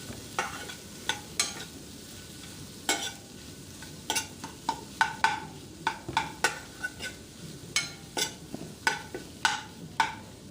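Boiled potatoes being mixed into masala in a pan: a steady run of rhythmic spoon scrapes and knocks over a light sizzle, close and clear, with no talking.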